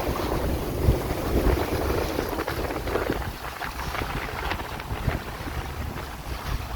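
Strong wind of about 20 knots or more rushes over a reefed sailboat under way, steady blustery roar close to the microphone with water swishing beneath, and no talking.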